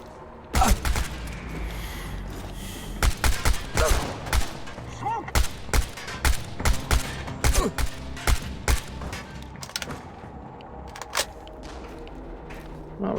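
Repeated shotgun blasts from the video game Chernobylite, loud booming shots spaced irregularly across the stretch, some in quick pairs, with clattering and thuds between them.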